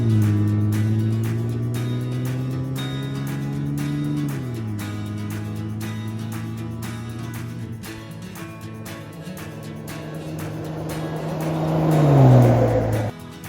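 A car driving along a road in the Canadian Rockies in chilly, snowy conditions, its engine a steady low drone that shifts pitch with speed and swells briefly near the end.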